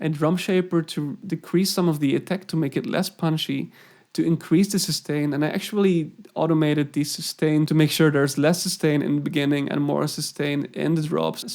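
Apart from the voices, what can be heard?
No distinct noise like a dog, phone or traffic.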